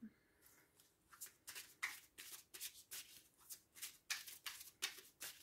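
Tarot cards being handled and shuffled for a reading, with quick close papery riffles and flicks repeating in short bursts and soft gaps between them.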